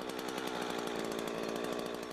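A chainsaw cutting into a tree while felling, a continuous loud buzzing engine drone under load holding steady throughout, with no talk.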